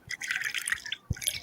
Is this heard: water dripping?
yes